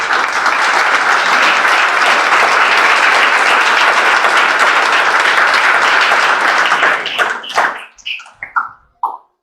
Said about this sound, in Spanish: Denle ofrenda de palmas a Dios en esta mañana.